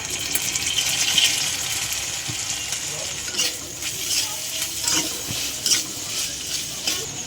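Ginger and garlic fry in hot oil for a kachkola kofta, a steady loud sizzle with stirring scrapes and faint watery bubbling running throughout, no voices.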